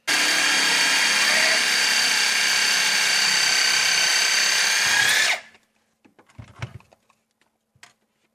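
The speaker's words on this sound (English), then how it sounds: "It's just a small little sawzall is what it is, and it's great for cutting this kind of stuff." A small sawzall cuts through a sink drain pipe in a loud, continuous high buzz for about five seconds, then stops abruptly, followed by a few faint clicks and knocks.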